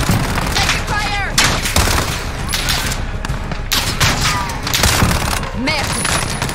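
Dense, chaotic gunfire rattles nonstop in Call of Duty Modern Warfare combat, with overlapping shots, impacts and whizzing ricochets, loud and close, and brief shouted voices mixed in.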